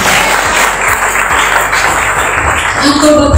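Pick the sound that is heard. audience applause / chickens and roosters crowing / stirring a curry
audience applause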